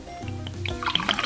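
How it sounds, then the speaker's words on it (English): Sparkling mineral water pours in a short burst, a low gurgling fill giving way to bright fizzing and popping bubbles, close up and fairly loud. "Oh, it's sparkling water."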